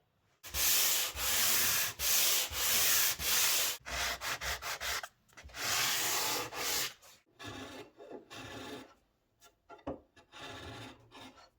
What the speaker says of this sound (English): some final sanding and touch-up.